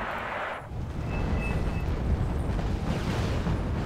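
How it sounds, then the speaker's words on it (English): A heavy rumbling artillery explosion in the real-time strategy game Wargame Red Dragon, a loud sustained roar with a sudden shift partway through, alone without talk. "Except that was fucking artillery"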